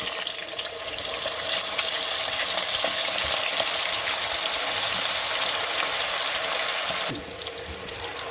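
Loud, steady sizzling of chickpeas frying in hot oil for mixed nimko, close and continuous, easing slightly near the end; no voices.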